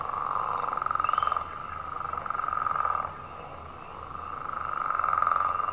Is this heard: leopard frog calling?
yes